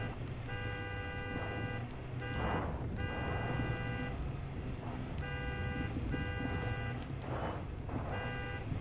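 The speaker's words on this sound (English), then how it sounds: "I'm honking on purpose, by the way, because it will drive the enemies out of their little hidey spot if they ever do appear." A car horn in Far Cry 5 honks in repeated sustained blasts, roughly one-second tones with short gaps between them, over a steady engine and road rumble.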